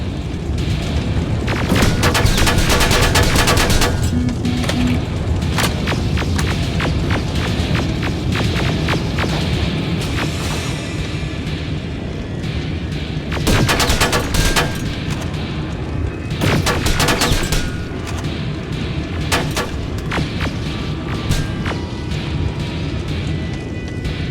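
Bursts of gunfire and heavy booms in the video game Terminator: Resistance, rapid volleys of shots repeating in clusters over a constant rumbling background, loud and close.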